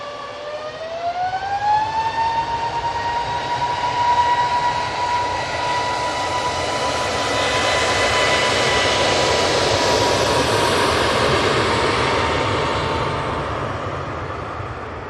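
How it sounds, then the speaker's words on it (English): An Airbus A321neo departing Manchester Airport for Malta lets out a loud, rising turbine whine that climbs and settles into a steady tone, while a broad engine roar swells to a peak and then slowly eases. "This one's going to Malta. It's the 321neo."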